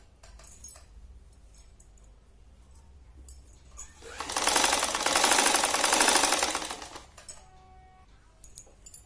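A sewing machine top-stitches a blouse in one continuous whirring run of a few seconds, with faint clicks and handling noises before and after, close and moderately loud with no talking.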